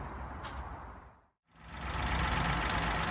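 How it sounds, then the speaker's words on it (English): A car engine idles steadily after an oil cooler has been fitted, a broad, even rumble that dips to near silence for a moment before resuming at a fuller, constant level. "so we've got the engine running"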